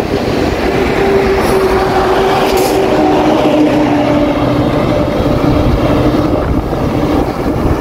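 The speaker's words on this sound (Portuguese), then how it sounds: "Carreta lá atrás, ó." A semi-trailer truck on a Tocantins highway rumbles past behind a touring cyclist. Its heavy, sustained roar carries faint whining tones that slowly shift in pitch, loud and unbroken throughout, with no talk.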